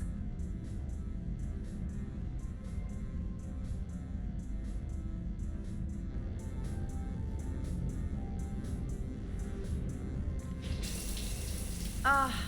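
A shower runs in Mass Effect 3, giving a steady, soft hiss of falling water throughout, with faint high ticks above it and a brighter surge of spray near the end.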